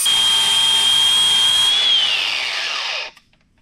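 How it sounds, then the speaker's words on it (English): Power tool grinding down a part so a Wilwood big brake caliper fits on a Can-Am X3, a loud steady high whine lasting about three seconds, then pitch dropping as it spins down into silence. "Even though you only see us grinding this down one time"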